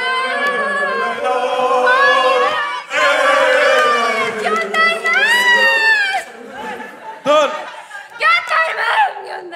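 A crowd outside chants and cheers in loud, rhythmic bursts of many voices, rising and falling and then breaking into shorter shouts toward the end.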